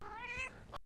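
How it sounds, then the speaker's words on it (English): A cat meows once, a short, clear, close call that drops off abruptly into near silence, with no talking over it. "And here comes another cat."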